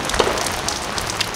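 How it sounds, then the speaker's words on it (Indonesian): Rain falls as a continuous broad wash of hiss, with a few faint drops pattering close by during a brief stretch and no voices. "Jadi enak hujan-hujan kayak gini kan"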